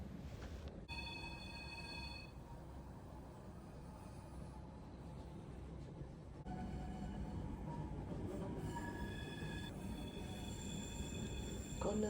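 Mountain railway train climbing a curving track near Zermatt in the Swiss Alps, heard from on board as a steady, continuous rumble of wheels and carriage noise that grows slightly louder partway through, with faint high whining tones.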